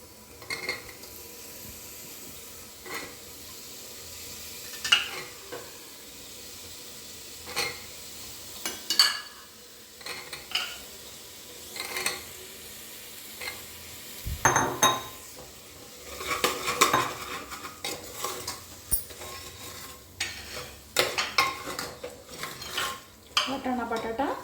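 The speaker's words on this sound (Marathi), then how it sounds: "वाटाणा बटाटा चांगला मसाल्यामध्ये आपण परतून घेऊया." Peas and potatoes sautéed with spices in a pan for vatana batata bhat, a spatula repeatedly scraping and clattering against the metal in irregular bursts over a low sizzle, louder stirring toward the end, no talk.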